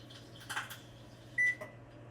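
A microwave oven hums steadily in a home kitchen, with a couple of brief clunks and a short electronic beep partway through.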